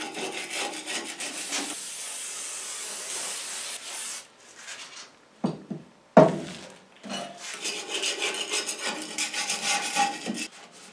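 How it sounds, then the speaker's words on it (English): Scraping and cleaning a cast base from an MK Martin snow blower during maintenance: steady, continuous rasping and rubbing strokes close up, broken by a short pause with a few sharp knocks before the scraping resumes. "We're going to start to clean this flange off a little"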